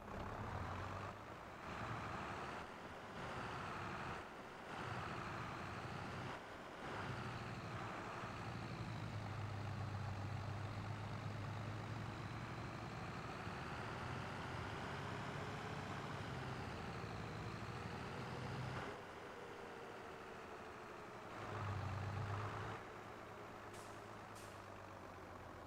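Truck engine driving in the Farming Simulator 22 video game on the Elmcreek map, a steady continuous drone that surges and eases with short gaps, a hiss of air brakes near the end.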